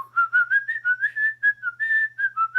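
A man whistles a tune in the 1931 film M: a steady run of clear, bright notes rising and falling in short phrases, close and alone without other sound.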